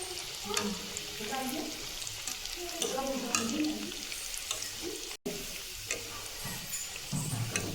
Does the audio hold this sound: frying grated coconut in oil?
yes